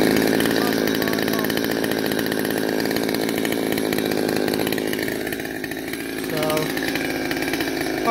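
A mildly ported Stihl 020T (MS200T) chainsaw with a good muffler runs during break-in, its engine buzzing loud and close without pause and dipping slightly in pitch partway through, while someone talks over it.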